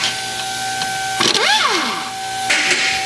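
A 3/8 impact gun spins up on a 13mm brake bolt on a 2007 Chevrolet Equinox, a brief rising-and-falling whine with rattling bursts, set against a steady electric hum.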